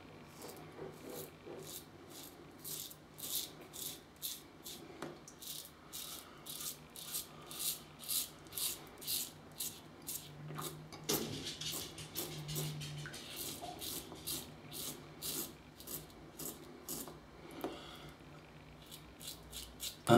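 A Parker Variant safety razor makes crisp, rhythmic scraping strokes over stubble while shaving, close and fairly quiet, with regular bursts separated by short pauses and no talking.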